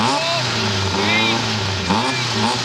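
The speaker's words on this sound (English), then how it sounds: "Pond blasts the Chevette through the narrow banks of the final stage on the way to a superb win" A Vauxhall Chevette rally car accelerates hard through a narrow final stage of the 1981 Manx Rally, its engine note climbing loudly and steadily, with a brief dip and rise.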